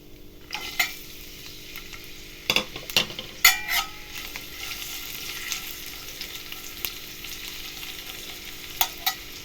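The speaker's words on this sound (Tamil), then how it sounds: "இதை நல்லா எண்ணெயில் ஃப்ரை பண்ணிடலாம்." Green and dried red chillies fry in oil for a semiya kichadi, giving a steady soft sizzle with a few sharp clinks of a spoon stirring against the pan.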